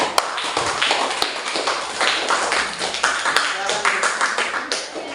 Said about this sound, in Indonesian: kita beri tepuk tangan dulu baik yang penanya maupun yang presentasi